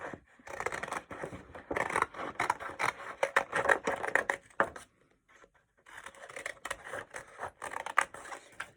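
Scissors snip a paper shape out along a black guide line, making close, crisp rapid cuts in two bursts separated by a short pause near the middle.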